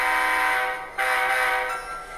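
Air being vented from a model diesel locomotive fitted with a Blunami wireless decoder, a steady loud hiss with a brief dip near one second before resuming alone.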